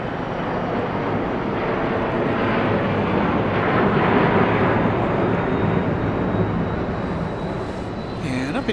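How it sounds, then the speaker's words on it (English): Passenger airliner taking off at Dallas Love Field under overcast skies, its broad jet engine roar loud and steady throughout, swelling slightly toward the middle. "And up it goes into our overcast skies here at Dallas Love Field."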